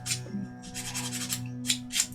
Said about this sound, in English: so let's sand it down first